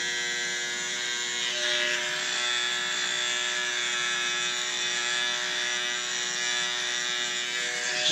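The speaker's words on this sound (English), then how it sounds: "Just trim around your ears." An electric hair trimmer buzzes steadily up close while trimming hair around the ears, a constant high-pitched electric whine with only slight shifts in tone as it moves.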